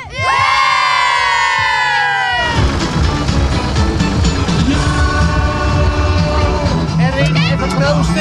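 A large crowd of children shouts and cheers loudly at a carnival in Reedeurp, a high rising yell at first, then continuous excited hubbub and chatter.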